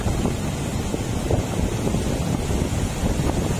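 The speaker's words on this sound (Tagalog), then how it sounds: "Malakas yung alon na yan, malakas" Loud, continuous roar of strong ocean surf and crashing waves with heavy wind buffeting the microphone, no voices.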